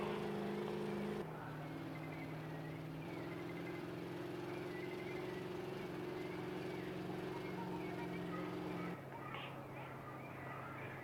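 Steady droning car engine from the video game Voyage USA, a low sustained hum that holds for about eleven seconds with small shifts in pitch, fairly loud and continuous with no talking over it.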